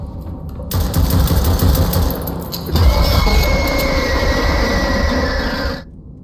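Video game gunfire aimed at an enemy's legs, dense rapid automatic shooting in loud sustained bursts that run for several seconds and stop abruptly, with no talking.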